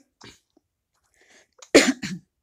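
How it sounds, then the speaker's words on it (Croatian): A person coughs at close range: a faint early sound, then two sharp, harsh coughs in quick succession after near silence. "malo kašljem"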